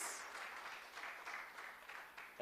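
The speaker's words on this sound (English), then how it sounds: "we have another round of applause for our Egerton" Applause from an audience at a national legal aid conference on access to justice, a steady, distant wash of clapping from a standing crowd, faint and continuous throughout.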